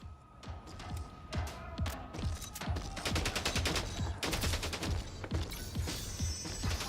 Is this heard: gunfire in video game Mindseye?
yes